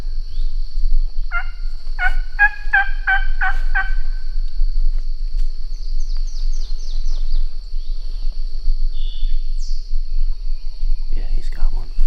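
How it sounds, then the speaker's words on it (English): A wild turkey gobbles in a short burst of rapid rattling calls from some distance at an outdoor roost at the end of the hunting season, followed by scattered bird chirps over steady insect-like background noise. "Looking over here, it's starting to gobble again."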